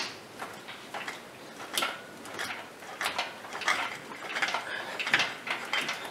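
A Case 1070 tractor PTO housing is yanked repeatedly to work it loose, producing a series of metallic clanks, rattles and scrapes in an irregular rhythm at close range.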